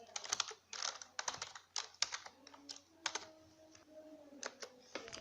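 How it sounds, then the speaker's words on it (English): Rapid typing on a computer keyboard while writing HTML and CSS code, with bursts of close, clicky keystrokes broken by short pauses and a few heavier thumps. "Okay, so I'm typing"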